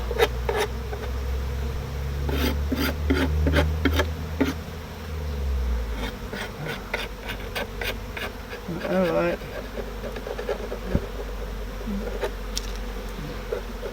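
Honey bees swarm around a beehive entrance, a dense continuous buzzing with individual bees droning past near the ear, while someone briefly speaks.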